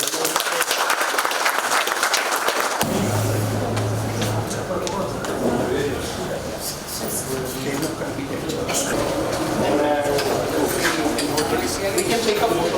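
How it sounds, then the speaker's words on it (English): Audience applause at a sugar cane grant launch ceremony, a dense continuous wash of clapping from a crowd, fairly loud and sustained, with voices and background noise mixed in. "A round of applause, ladies and gentlemen."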